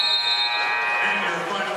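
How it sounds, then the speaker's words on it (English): A basketball game-ending buzzer at a high school game against Mount Vernon blares as one long, loud, steady electronic tone under a commentator's voice. "Buzzer's about to sound, ending this ball game"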